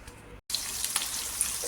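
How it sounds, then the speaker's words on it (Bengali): Sliced onions frying in hot oil for biryani beresta, a steady close sizzling hiss that cuts out for an instant, then returns louder and fuller with small crackling pops. "এখন তেলটা গরম করছি, আর এখন পেঁয়াজ, এই বেরেস্তাগুলো ভেজে নেব"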